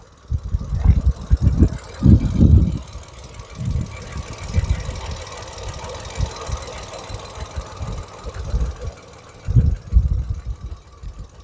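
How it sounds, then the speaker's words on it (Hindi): A Mahindra XUV 3XO REVX A turbo GDI petrol engine runs with a low, uneven rumble that swells and dips in irregular bursts, heard up close. "तो दोस्तों यहाँ पे आप इंजन नॉइस सुन सकते हो टर्बो GDI पेट्रोल इंजन की।"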